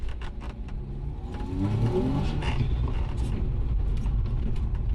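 BMW E36 engine revving under hard acceleration, rising from a moderate idle into a stronger, louder drone after about a second and a half, heard up close with no talk.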